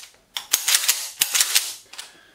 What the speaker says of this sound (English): excuse the dry fire, it is a Mossberg